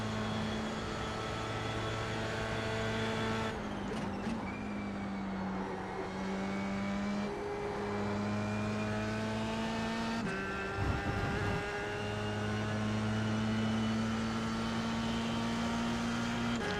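A race car engine in iRacing, a Formula 3 car at Monza, drones steadily at high revs, pitch dipping and climbing again at gear shifts and braking, loud and continuous.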